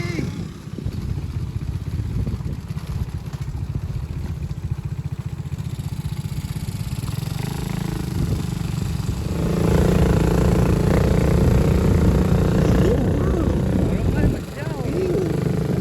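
A motorcycle engine runs close by throughout on a damaged mountain road on Ambon, its steady mid-pitched rumble growing louder near the end, with people's voices mixed in.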